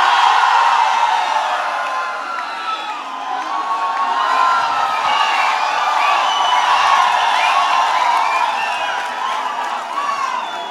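A large crowd at a ROG Masters 2017 South Asia esports finals cheers, whoops and claps continuously, a dense roar of voices and applause that stays loud throughout.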